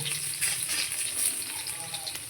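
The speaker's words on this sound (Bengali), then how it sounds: "ততক্ষণে আমি এই যে রসুন, কাঁচা লঙ্কা, টমেটো, পেঁয়াজ এগুলোকে একটু পুড়িয়ে নেব" Garlic, green chilies, tomato and onion char on a hot griddle, making a short, even crackling sizzle with faint pops.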